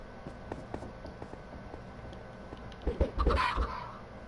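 Chickens cluck in the Minecraft video game, a few soft scattered clucks early on, then a louder burst of clucking near the end, with no talking.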